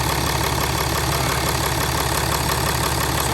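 A 2016 Ram 3500 dually diesel engine idling just after a restart following fuel filter replacement, a loud, close, steady rumble with a fast even clatter and constant low drone throughout.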